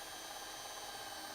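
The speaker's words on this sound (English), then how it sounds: "you're going to drill into that really nice timber" A power drill boring holes into a nice timber board during board flattening: a steady, continuous, fairly loud whirring drone with no breaks and no talking.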